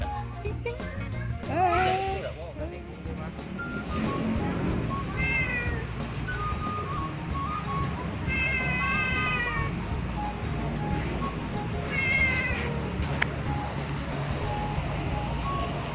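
A cat meows several times at a fishing pond in Balikpapan, separate calls spaced a few seconds apart over steady background noise and occasional voices.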